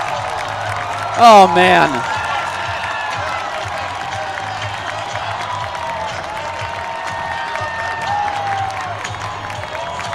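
Baseball crowd at an Oakland Ballers opening-day game, a swell of distant cheering and applause under a broadcaster's voice, which carries on throughout while the crowd noise stays steady and fairly faint.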